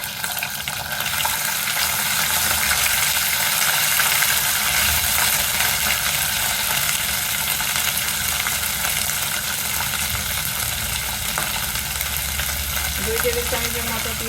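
Mutton liver frying in a pan with ginger garlic paste, a loud continuous sizzle with stirring scrapes throughout, close and without speech.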